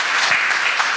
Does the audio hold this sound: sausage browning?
no